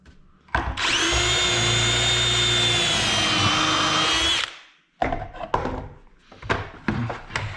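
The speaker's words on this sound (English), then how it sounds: "and just drill these like so." Power drill boring pocket holes into wood boards for a fireplace mantel, a loud steady whine running about four seconds before cutting off, followed by softer clatter and handling of the wood.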